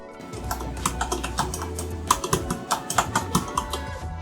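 Typing on an MSI Vigor GK80 gaming keyboard with Cherry MX Silver speed switches, a quick irregular run of close, crisp key clacks with occasional louder strikes.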